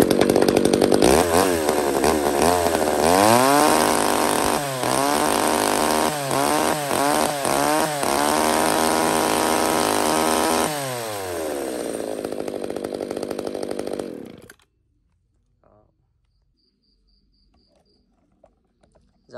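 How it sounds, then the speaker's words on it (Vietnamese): Small Echo home-use chainsaw running loud and steady for about fourteen seconds, its engine revving up and down repeatedly in quick bursts, then cutting off into near silence. "cưa xích Echo sử dụng gia đình"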